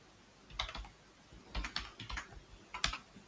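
Code is typed on a computer keyboard in short bursts of close key clicks separated by brief pauses, with no voice over them.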